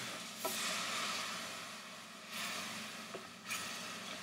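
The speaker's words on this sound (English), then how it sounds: "you literally just stir it around, make sure everything is coated evenly, and slowly add your wine as you continue stirring" Mushrooms stirred in a pan as wine is poured in, giving a soft, continuous sizzle with a few brief scraping bursts of the utensil, faint and without talk.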